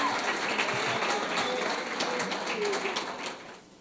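A church congregation claps steadily in a continuous patter of applause, loud and dense, fading out near the end with some faint voices underneath.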